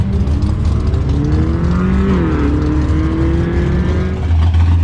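A Chevy Nova race car engine roars loudly and steadily at close range, its deep exhaust tone rising and dipping slightly as the revs shift.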